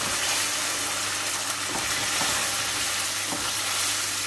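Chicken frying in ginger garlic paste in a hot pan for a homestyle Shimla chicken aloo dish, a loud steady sizzle with faint stirring scrapes and no voice.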